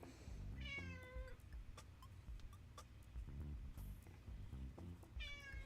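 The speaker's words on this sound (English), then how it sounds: "People aren't here to listen to you meow." A cat meows close by twice, at the start and again at the end, with soft ticking and faint low rumbling in between.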